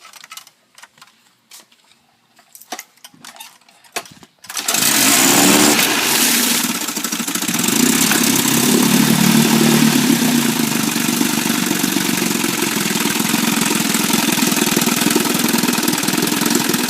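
After a few quiet clicks, a 1957 Johnson 18hp two-stroke outboard motor starts and runs steadily with a buzzing, rattling drone, loud and close throughout.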